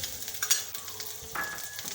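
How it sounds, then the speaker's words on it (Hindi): Ginger and green chili paste sizzles and fries in a hot pan for a samosa filling, a steady close crackle with a few utensil scrapes and clicks, no voices. "अदरक और हरी मिर्चों का पेस्ट जो हमने पहले ही ग्राइंड करके रख लिया हुआ है हमारी आसानी के लिए। अब थोड़ा सा ये फ्राई हो जाए"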